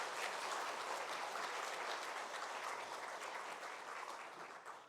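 Sustained applause from a church congregation during a Sunday service, many hands clapping together, loud and even before gradually tapering off.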